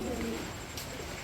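Pigeons coo in a low, soft, rolling burst at a large pigeon farm, heard close over a steady background hum.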